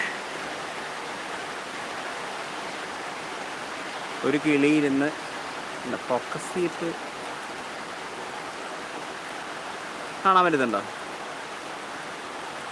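Heavy afternoon rain falls as a steady, dense wash of noise throughout, with a voice speaking briefly over it a few times.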